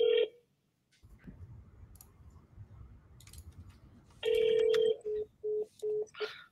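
A telephone call over a house phone: a dial tone cuts off, faint line noise follows, then a long ringback tone and a quick series of short dial beeps, with brief muffled voice sounds.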